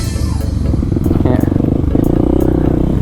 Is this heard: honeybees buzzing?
no